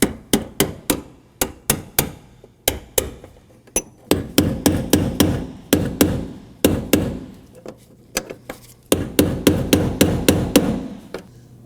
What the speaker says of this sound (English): Strike it until it fully seats on the fuel tank.